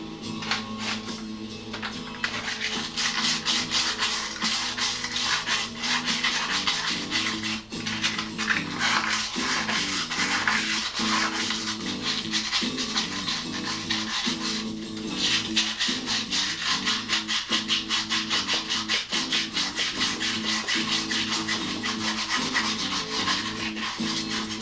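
Motorcycle parts, including rusty chrome, are hand-sanded with 100-grit sandpaper in close, continuous rhythmic scrubbing strokes that carry on steadily without a pause or any voice.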